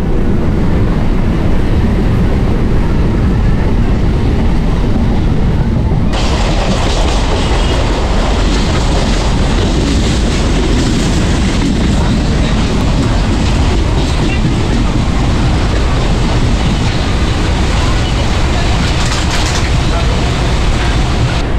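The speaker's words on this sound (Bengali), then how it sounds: "বৃষ্টি যতই হোক না কেন ট্রেন কিন্তু নিজের মতো এগিয়ে চলেছে" A train travels the Sealdah–Gede line through rain near Ranaghat, wheels clattering in a continuous clickety-clack under a loud, close rumble that brightens partway through.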